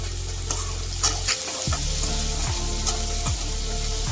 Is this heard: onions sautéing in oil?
yes